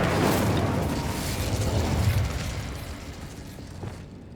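Incendio fire spell cast in the video game Hogwarts Legacy: a loud, whooshing burst of flame that swells at once and fades slowly over a few seconds.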